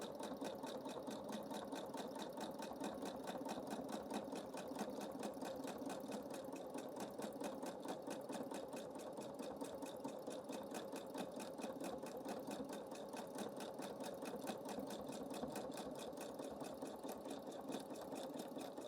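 A sewing machine runs continuously, stitching a meander pattern with black thread on a fabric collage, a steady close rapid mechanical whir and needle clatter with no pauses.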